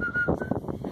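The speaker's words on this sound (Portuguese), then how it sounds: "nós podemos assobiar" A person whistles a short, faint, high, steady tone lasting a brief moment, over quiet background sound.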